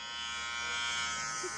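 A smartphone razor app plays a steady electric shaver buzz, a constant dense hum that holds level throughout this short stretch without speech.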